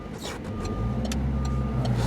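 A car engine runs again after stalling during a driving lesson, giving a steady low, close rumble with faint higher mechanical whines on top.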